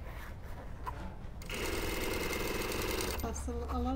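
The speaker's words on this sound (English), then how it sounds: "we have to sew together down to the notch there" A sewing machine runs steadily while stitching a seam on a garment panel with godets, starting abruptly and running for about a second and a half before stopping, close and loud, with faint handling noise around it.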